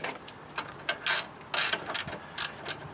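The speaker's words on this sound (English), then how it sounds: "jack it up right underneath the lower ball joint" Jack ratcheting under the lower ball joint at the front end of a 1976 GMC Motorhome: a series of close, sharp metallic clicks in irregular bursts, about a dozen strokes, with no talking.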